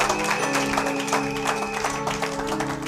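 A church congregation applauds, a dense, steady patter of clapping hands, moderately loud and continuous with a held organ or keyboard tone underneath.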